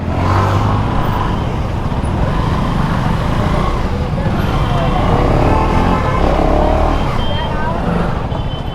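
A KTM Duke 390 motorcycle engine hums steadily while riding, mixed with road and wind noise, continuous and fairly loud, with a rider talking over it.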